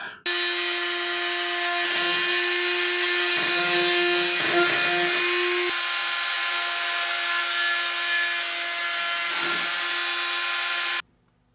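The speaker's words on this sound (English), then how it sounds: "If we try the oscillating tool with that head right there. It says it's for cutting composites." An oscillating multi-tool fitted with a composite-cutting head buzzes steadily and loudly as it cuts a fiberglass composite panel on a vintage rocket ride, its whine holding for about ten seconds, with rougher scraping bursts as the blade bites.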